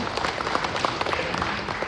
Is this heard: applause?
yes